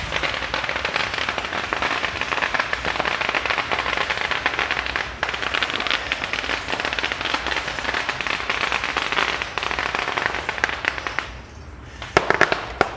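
Firecrackers crackle nonstop in a dense, loud barrage outdoors in Thailand, a rapid rain-like rattle of pops with a few sharper bangs near the end and no talking.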